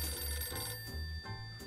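An old-fashioned telephone ringing in the video game Empire of Sin, a bell ring repeating in short bursts, close and clear with no speech.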